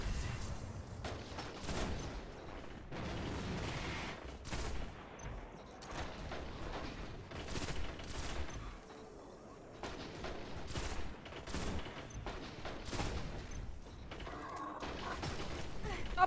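Rapid, repeated weapon fire in the game Destiny during a Challenge of the Elders run: shots and mechanical clanks come in irregular bursts throughout, fairly quiet, with voices talking at times.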